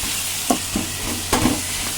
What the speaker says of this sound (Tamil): கல்லுப்பு போட்டு நம்ம நல்லா வதக்கி விட்டுக்கலாம்